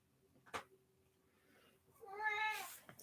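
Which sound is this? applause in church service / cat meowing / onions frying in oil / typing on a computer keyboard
cat meowing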